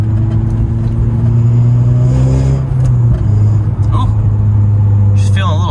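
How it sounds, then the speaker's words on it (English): Tuned 9th generation Honda Civic Si, heard from inside the car, its exhaust giving a steady loud low rumble and drone, with people talking over it. "And I guess you can hear the exhaust"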